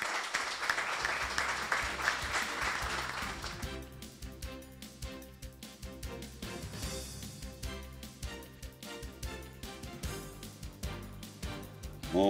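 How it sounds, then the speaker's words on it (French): Sustained applause from an audience at a local community broadcast event in the Appalachian region of Quebec, steady and full for the whole stretch, thinning slightly toward the end. "je crois que ça vaut une bonne main d'applaudissements"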